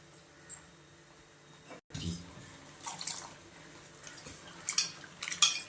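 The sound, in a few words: washing small onions in water in a pot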